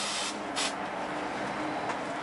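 Short hissing bursts of hairspray from an aerosol can, close up, with a brief pause between the sprays.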